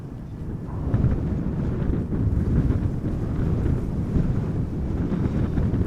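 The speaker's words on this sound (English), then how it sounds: "So the wind is blowing nearly straight from the west." Steady wind buffets the microphone at Amsterdam Schiphol Airport, a continuous low rumbling roar with no pauses and no voices.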